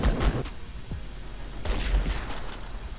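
Remington 700 sniper rifle shots fired through walls in the video game Phantom Forces, two heavy booming reports with rumbling tails, about a second and a half apart, and no speech.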